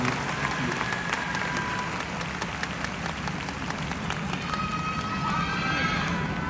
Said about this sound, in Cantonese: 我哋俾啲掌聲嚟自新加坡嘅 Joy。